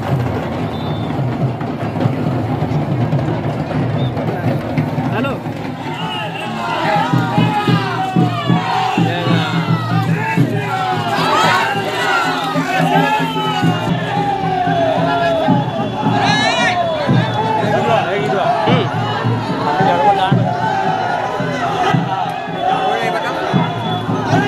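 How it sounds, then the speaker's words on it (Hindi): A dense crowd at a village Ram Navami fair in Jharkhand murmurs and shouts continuously, with excited voices, cries and chatter swelling and overlapping at close range throughout, while someone nearby talks over the din. "और देख ही सकते काफी भीड़ हो रही है"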